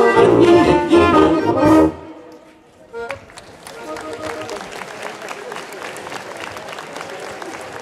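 Audience applause at a brass band festival in Přepychy: loud clapping from a crowd for about two seconds right after the band stops, then fading into a murmur of chatter and scattered noise.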